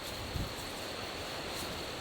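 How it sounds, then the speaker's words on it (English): Strong wind roars steadily outside a tent in a park next to a road at night, a continuous dense rushing noise with no pauses. "It is insanely windy right now."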